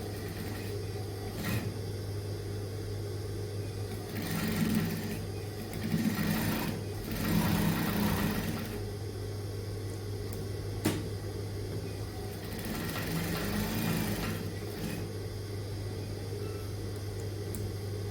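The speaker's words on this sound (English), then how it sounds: "Now you top stitch after bringing the pocket bag out." A sewing machine runs in short bursts while top stitching a pocket on a garment, with several stitching runs separated by pauses under a steady low background hum.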